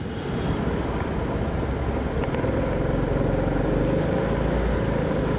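A Vespa scooter ridden slowly, its engine a steady, continuous low drone throughout with wind rush, close and loud, no talking.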